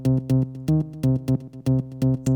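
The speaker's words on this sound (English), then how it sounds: "If I disable the envelope, it would sound like this." A bright, buzzy sawtooth synth bass with its filter envelope disabled plays a punchy rhythmic pattern, each note staying harsh and full without fading or softening.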